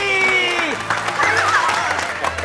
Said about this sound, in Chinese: 给雅涵掌声鼓励。